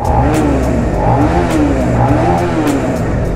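Stock exhaust of a 2019 Suzuki SV 650 motorcycle revving close up, a steady loud engine drone with rising and falling pitch sweeps, alone without talk.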